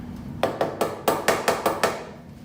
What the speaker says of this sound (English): Personally, rather than use this box grater, I would probably just rather chop it up.